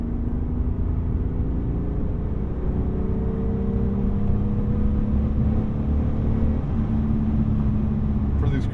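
A 1999 BMW M3 E36 engine hums steadily while the car takes curves in fourth gear, a close, sustained drone with slight swells in pitch and a voice speaking over it.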